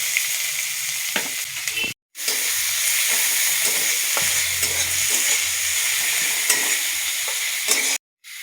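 Chopped onions hit hot oil in a wok with cumin already tempered, giving a loud, continuous sizzle and hiss broken by two brief dropouts, with scraping stirs and low clatter underneath.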